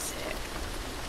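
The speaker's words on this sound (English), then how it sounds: "Oh, it's raining now though." Steady rain from the horror video game Devour, a dense, even hiss of drops on surfaces that carries on without a break for the whole short stretch, moderately loud and close around the listener.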